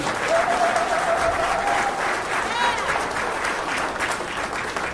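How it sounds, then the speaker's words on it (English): Dense applause from the audience at a business roundtable holiday awards reception, honouring Chairman Barnes, a steady wash of many hands clapping with a few faint whistles and voices mixed in, sustained for the whole stretch. "please give a big round of applause to Chairman Barnes"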